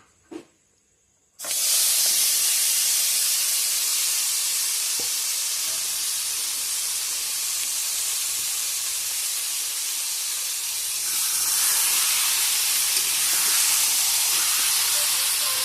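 Meat frying in a pan, a loud continuous sizzle and steamy hiss that starts abruptly after a brief quiet moment and holds steady, swelling slightly near the end.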